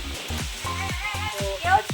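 Poultry meat cooks in a pan, a sizzling and frying sound broken into short bursts over under two seconds, with voice-like tones mixed in.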